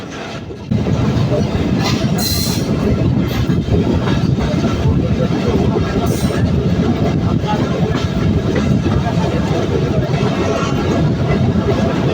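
The Nakshikantha commuter train runs steadily on the rails near Faridpur, a loud, continuous rumble with rhythmic clickety-clack and occasional faint squeals, heard from inside the carriage without a break.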